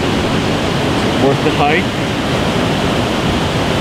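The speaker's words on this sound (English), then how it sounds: "it's a nice waterfall." Waterfall at Western Brook Pond in Gros Morne, Newfoundland: a steady, loud broadband rush of falling water filling the whole scene, with a brief voice speaking over it.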